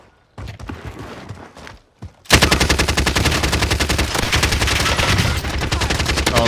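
After a couple of softer thumps and scuffles, sustained rapid machine-gun fire from a battle royale video game erupts and keeps hammering loudly and close for several seconds.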